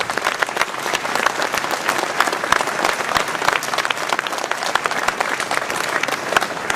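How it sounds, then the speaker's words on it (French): Loud, close, dense applause for municipal staff from the crowd at a mayor's New Year address in Ouistreham, steady and unbroken from start to finish. "Qu'ils en soient remerciés et chaleureusement applaudis."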